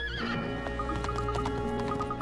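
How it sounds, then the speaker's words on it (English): A spirited horse neighs and whinnies loudly in the Professor Layton vs Phoenix Wright video game, a long rising call over steady background music, with faint hoof clip-clops. "Hey, easy boy! This horse is certainly spirited!"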